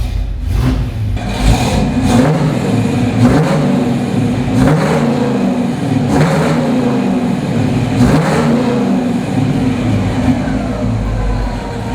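A 1978 Pontiac Firebird Trans Am with its 400 engine runs loud and close, rumbling steadily with repeated revs that swell and fall about every two seconds, and no voices.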